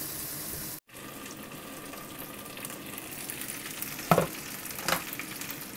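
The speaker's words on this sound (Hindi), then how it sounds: "इसमें दो तीन ड्रॉप पानी के डाल देंगे ताकि स्टीम में आकर थोड़ा सा पक जाए" Chicken pieces for spicy peri peri chicken cook in a covered pan with a couple of spoonfuls of water, giving a steady close sizzling hiss with two brief clatters near the end.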